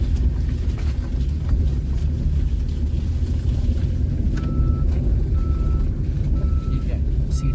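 Steady low rumble of a 2024 Maruti Swift automatic with a 3-cylinder engine cruising on a mountain road, heard from inside the cabin with a few faint chimes and someone talking over it.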